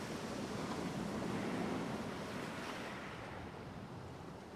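Sea waves wash steadily on a shore at night, a broad continuous hiss and rumble that swells slightly and then eases, with no voices.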